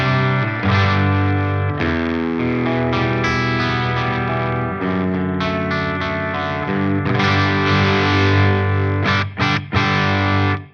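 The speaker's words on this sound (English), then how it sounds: "let's crank up the gain control and just have a little play around with the volume control on the guitar" Electric guitar played through a Friedman IR-X twin-channel high-voltage valve preamp with the gain cranked, giving loud, sustained high-gain distorted chords and riffs that change in density and dynamics, with brief choppy stops near the end.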